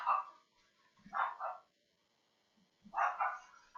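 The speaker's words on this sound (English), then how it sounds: "Sorry, guys, if you can hear my dog." Dog barking, three loud sharp barks spaced apart with quiet gaps between, fairly close, with no talk over them.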